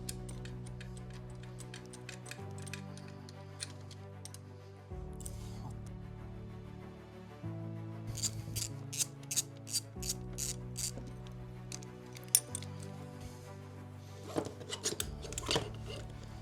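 Steering damper on a crash-damaged 2009 Yamaha R1 being worked with a ratchet tool, giving repeated close clicking ratchet strokes in uneven bursts over a low background drone.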